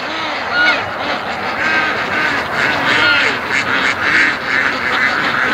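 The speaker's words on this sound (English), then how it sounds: "Come on, duckies." A flock of Muscovy ducks outdoors, with continuous overlapping calls and honk-like noises heard close and loud throughout, over steady background noise.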